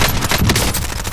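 Rapid automatic gunfire in Call of Duty Warzone, a dense, loud volley of shots running continuously through the whole moment with no talk over it.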